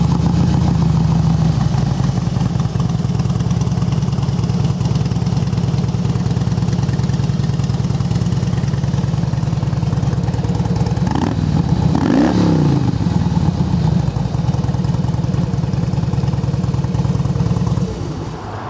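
A 2005 Harley-Davidson Softail Springer FLSTSCI with a balanced Twin Cam 88 engine idles steadily and close up, a continuous low rumble with a brief swell in the middle and no talking.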